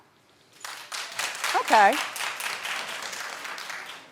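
A studio audience claps, the applause swelling after a brief quiet start and holding steady, with a voice speaking over it.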